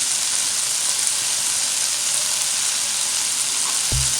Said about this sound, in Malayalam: കൂടി നന്നായിട്ട് ഇളക്കുക.